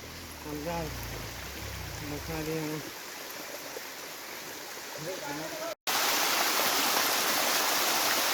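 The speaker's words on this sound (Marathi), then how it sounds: "अगदी वरून पाणी आहे," Water falling from a height roars in a steady broadband rush, first under a person talking, then louder and fuller alone after a brief cut.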